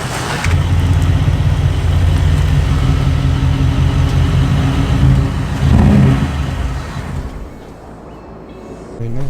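A BMW X6's engine drones loud and close as the car drives, a steady low rumble that swells briefly and then eases off toward the end.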